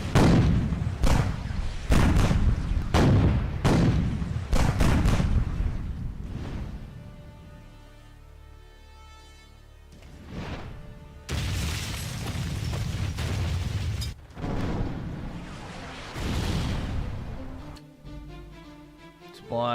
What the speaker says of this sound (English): Block enemy attacks and gunfire.